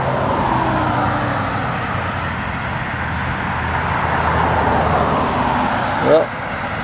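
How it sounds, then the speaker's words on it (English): Cars roll past on a nearby road, a steady broadband traffic wash swelling and easing as vehicles pass, with a brief sharper burst near the end; no speech stands out over the road noise. "Just watching cars roll by."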